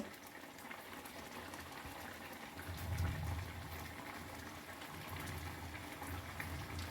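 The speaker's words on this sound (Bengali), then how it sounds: "এই যে ফুটছে, এটা অনেক ঘন ঘন হয়ে ফুটছে, তখন দেখবেন যে জুসটা গাঢ় হয়ে গেছে" Juice boils rapidly in a pan on a gas stove, giving a steady close bubbling and gurgling that swells briefly midway, with no voices.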